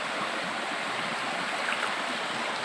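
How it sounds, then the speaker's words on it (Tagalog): Water poured onto a rock outdoors gives a steady, close splashing hiss, an even wash of noise lasting the whole few seconds with no talk over it. "binabasa ko ng tubig mga katiits para maklaro ninyo"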